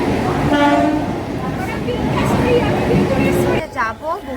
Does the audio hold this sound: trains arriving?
yes